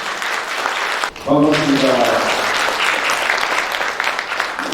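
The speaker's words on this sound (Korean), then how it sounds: "큰 박수로 맞이해 주십시오" An audience at a future innovation forum applauds to welcome a provincial governor as he takes the stage. The loud, continuous clapping runs throughout, and someone briefly speaks a greeting over it.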